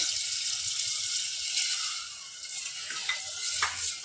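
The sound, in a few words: water poured into cooking pot, sizzling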